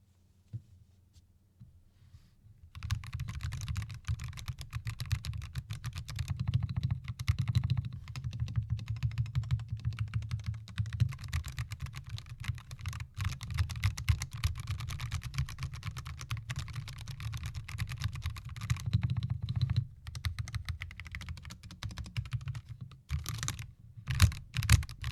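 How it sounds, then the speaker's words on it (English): Continuous typing on an LTC Nimbleback NB981 98-key mechanical keyboard: a dense, rapid stream of close clicky keystrokes with brief pauses and a few heavier final taps, no voices. "So now let's go ahead and do a typing test on this keyboard."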